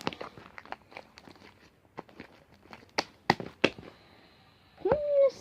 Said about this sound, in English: This is gonna be the best crunch.